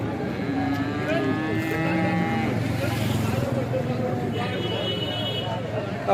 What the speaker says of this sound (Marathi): बघा मोठी गाई आहे, एचएफ जातीची आहे